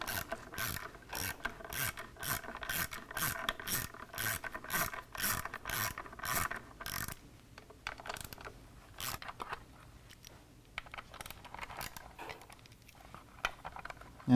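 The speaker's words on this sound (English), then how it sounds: "The next tool we need is a T27 Torx, and there's 3 screws here that go right through the air cleaner" A T27 Torx ratchet clicks in quick, steady rhythm while backing out air cleaner screws on a stock 2010 Harley-Davidson FLTRX, close and crisp, then slows to scattered clicks and faint handling noises.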